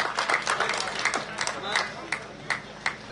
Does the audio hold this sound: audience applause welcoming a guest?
yes